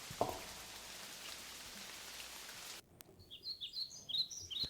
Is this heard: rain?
yes